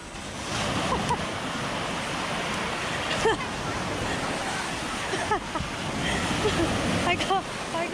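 Heavy surf pounds the shore at Finale Ligure beach, a loud, steady wash of breaking waves and churning water, with people talking intermittently over it.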